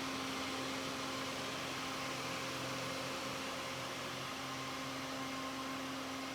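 A Samsung R7040 PowerBot robot vacuum cleaner runs indoors with a steady, faint motor whine and fan hiss, unbroken throughout and with no voices.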